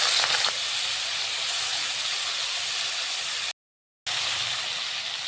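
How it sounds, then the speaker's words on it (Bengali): Shrimp coated in turmeric and salt frying in hot oil, a loud, steady, close hiss that runs continuously and briefly cuts to silence before resuming. "তেলটা গরম হয়ে গেছে, আমি আবার মাছগুলো দিয়ে দিলাম।"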